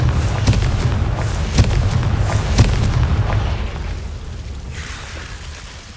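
Confringo fire-blast spells cast in Hogwarts Legacy, a run of booming, thudding bursts with sharp cracks at the onset, loud and close, rolling into a rumbling tail.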